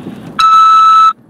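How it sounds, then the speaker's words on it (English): A single loud electronic beep from a prison collect-call phone system, a clear steady tone lasting under a second, rising out of quiet background noise. "After the beep, press 5 to accept this call."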